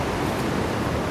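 Ocean waves roar near the shore of Hanoman Island in East Java, a dense and loud continuous rush of surf with no other sounds.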